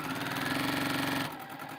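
A sewing machine stitches fabric for an Africa map quilt, a steady fast mechanical whir with a rhythmic needle pulse, fairly close, running alone before stopping abruptly near the end.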